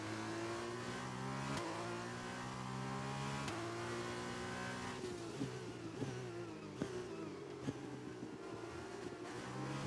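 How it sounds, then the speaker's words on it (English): A Formula 1 race car in the F1 2021 video game, its engine droning steadily and rising with revs, then stepping down through several sharp downshifts. "his downshifts feel like it hurts the engine. You can hear a dud, dud, dud, dud, dud"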